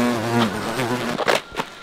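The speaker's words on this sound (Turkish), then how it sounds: "İşte burada arı falan da var arkadaşlar" A bee buzzes close by in a village square, a steady droning hum that wavers in pitch for about a second before fading amid a few brief rustling knocks.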